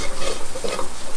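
Ground dried shrimp being stirred in a pan, a brief close scraping and soft sizzling with no talking.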